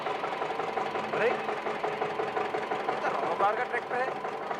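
A tractor engine, running at night and suspected of a fault, idles with a steady knocking chug underneath people talking.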